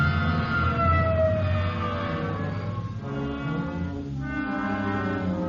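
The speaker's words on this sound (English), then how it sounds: "Okay, hit the siren." A loud wailing police car siren sweeps up and down continuously, close by and sustained, with an engine rumbling beneath it.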